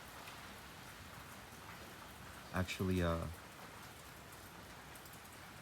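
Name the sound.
dense heavy rain during a typhoon in Tokyo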